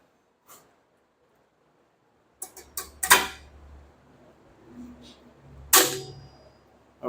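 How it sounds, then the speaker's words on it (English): A spring tool snaps a brake shoe spring into place, producing a few sharp metallic clicks and snaps, the loudest two standing apart, separated by quiet handling noises. "Okay, this tool will put that spring on there."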